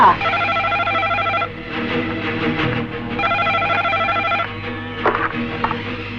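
A telephone rings loudly in repeated electronic trilling bursts with short pauses between them, close and clear over a low background hum.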